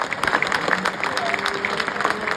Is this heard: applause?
yes